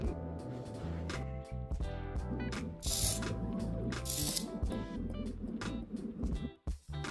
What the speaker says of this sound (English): pass that to the Polargraph machine, and I'm super happy to see it working